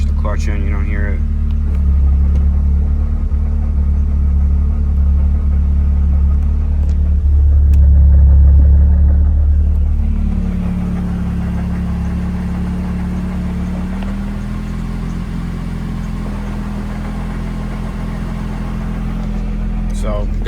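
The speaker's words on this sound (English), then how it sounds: "If you guys can hear that, that's the throwout bearing." An idling 1986 Toyota Corolla AE86 GTS with a worn throwout bearing gives a steady low engine rumble with a faint whirring hum, close and continuous, briefly swelling midway, while a person talks over it.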